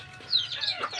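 Backyard chickens kept alongside ducks give a quick burst of clucking, one short close call lasting about a second.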